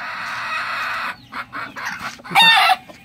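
A rooster crows in a long, loud, sustained call, followed by a few choppy clucks and a second sharp outburst from the Texas and golden chickens on a small farm, close and without talk.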